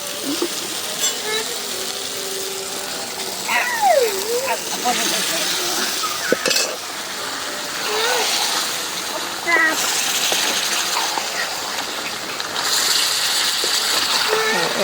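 Meat goes into a pan of spiced masala being fried down, with steady sizzling and hissing throughout and bursts of splatter, while people talk over the cooking.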